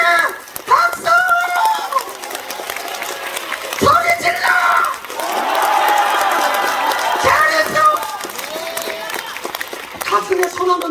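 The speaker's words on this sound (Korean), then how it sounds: "박수 한번 쳐주세요." Audience applause at a ventriloquism show: a burst of crowd clapping and cheering rises in the middle, framed by a performer's amplified voice and music before and after.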